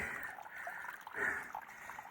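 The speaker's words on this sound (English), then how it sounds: "Water does come out of the mountain." Water trickles steadily out of a spring on a mountainside along a hiking route near Pearisburg, a soft, close, continuous dribble with gentle gurgling swells.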